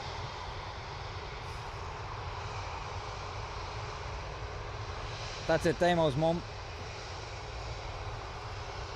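At Dublin Airport, a steady, broad roar of large aircraft engines persists throughout, loud and close, while a person speaks briefly partway through over the engine drone.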